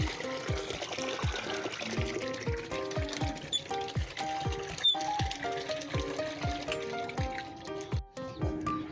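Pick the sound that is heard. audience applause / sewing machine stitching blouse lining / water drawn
water drawn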